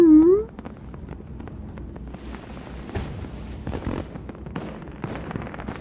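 Fireworks in the Love and Deepspace video game during a sparkler date scene, a brief rising whistle followed by a string of scattered crackles and pops under soft background music.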